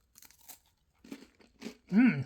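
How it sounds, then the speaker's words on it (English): A soy blueberry granola bar from a military field ration gives a crisp snap followed by a few crunchy, brittle breaks, close up and fairly loud, with a quiet pause between the opening crackles and the final louder crunch. "Nice crisp snap to that soy blueberry granola bar."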